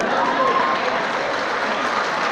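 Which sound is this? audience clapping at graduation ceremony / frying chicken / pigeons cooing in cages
audience clapping at graduation ceremony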